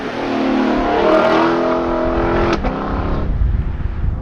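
A 2021 Lexus LC500 accelerating hard through a corner with traction control off, its engine note rising and holding loud and close for several seconds, with a sharp transient partway through before the revs settle.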